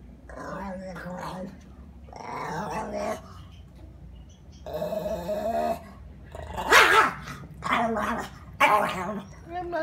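A puppy makes a run of close, throaty growl-barks and yips in short bursts separated by pauses, some rough and gargly and some sharper, with a person's voice talking to it between them.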